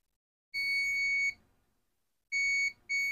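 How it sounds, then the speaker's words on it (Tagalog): A continuity tester checking a shorted mouse clicker switch gives a loud electronic buzzer tone steadily for about a second, falls silent, then returns in two short bursts. "Lagay ko na lang sa buzzer para naririnig nyo."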